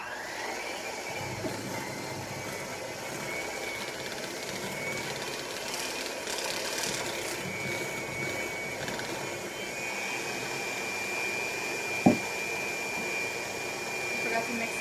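An electric mixer beats eggs, sugar and butter in a kitchen, giving a steady, continuous motor whir for the whole stretch at moderate loudness, with one brief sharp knock near the end.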